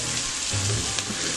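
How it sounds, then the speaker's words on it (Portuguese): Brief, loud sizzle as a penne sauce with dried beef, calabresa sausage and bacon is stirred and sautéed in a pan, a dense crackling hiss with a low scrape midway. "Agora vamos dar uma mexida, vai refogando."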